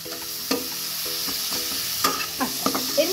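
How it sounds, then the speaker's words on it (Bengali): Spices for pepper chicken sizzle and fry in a pan, with repeated stirring scrapes and clinks at irregular intervals over a steady hiss, close and fairly loud, no talking. "এইভাবে কষিয়ে নেবো ভালো করে।"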